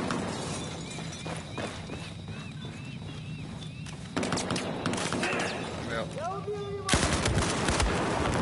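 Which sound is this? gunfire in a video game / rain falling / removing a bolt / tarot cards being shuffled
gunfire in a video game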